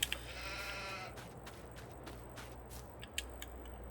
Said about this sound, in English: So that's filled up its trough for the one sheep